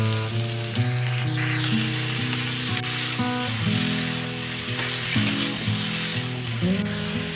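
Cabbage with carrot, beans and potato sizzling and frying in a pan, with steady crackling and occasional stirring scrapes, close and continuous under a musical background.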